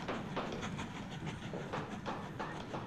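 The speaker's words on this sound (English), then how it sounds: "Okay, here comes our train." A train rolling into a station in the Mashinky railway-building video game, with steady rhythmic clickety-clack of wheels over rail joints and a faint steam hiss, fairly loud and continuous with no talking.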